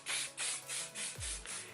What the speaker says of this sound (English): But what I do is I just spray my hair